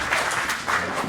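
A live audience at a comedy and philosophy stage show clapping, dense steady applause from a crowd heard close and fairly loud for a brief moment.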